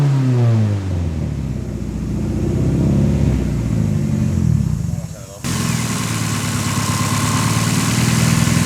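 A 300+HP Toyota Starlet engine with a blown head gasket, running low on one cylinder, revs up from a rough idle with a rising mechanical roar and then holds a loud, steady drone, close up, while people talk over it.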